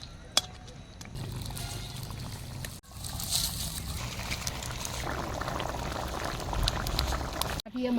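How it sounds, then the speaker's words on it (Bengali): Fish curry broth for a tilapia dish bubbles and simmers in a pot, a continuous close burbling boil with a few sharp clicks and brief dips along the way. "ঝোল আমার ফুটে গেছে, এবার ভাজা মাছটা ছেড়ে দেবো"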